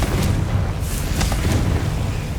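A Confringo blasting curse in Hogwarts Legacy goes off as a dense, roaring explosion, loud and sustained through the moment with a few sharp crackling bursts on top.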